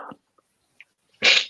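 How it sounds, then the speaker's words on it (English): A single sharp human sneeze bursts out near the end after a brief breathy intake and near silence, close and loud. "I'm about to sneeze."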